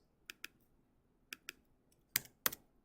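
Crisp computer keyboard and mouse clicks come in small pairs and short bursts, close and quiet in an otherwise still room, as a browser token is deleted.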